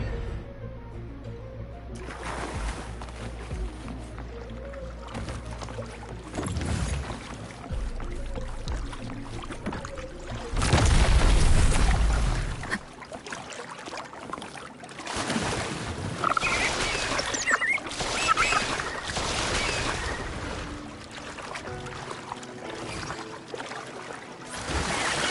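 Gondola boat gliding over water in the video game Wuthering Waves, a continuous wash and splash of water with a loud rushing surge partway through, alongside faint cooing birds.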